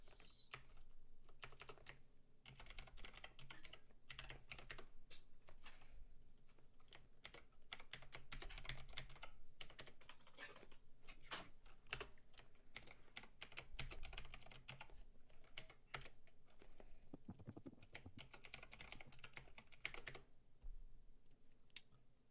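Rapid typing on a computer keyboard, a steady stream of quiet close key clicks with brief pauses between bursts, continuing for the whole stretch with no talk.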